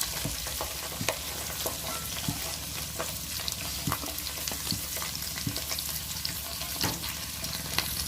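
Onions and green chillies frying in hot oil with cumin seeds, a steady close sizzle punctuated by sharp clicks and scrapes of stirring at irregular intervals, no voices.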